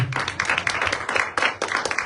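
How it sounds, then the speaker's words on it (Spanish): Steady applause from a church congregation, a dense wash of many hands clapping with no voices over it, fairly loud throughout. "Denle un aplauso al Señor"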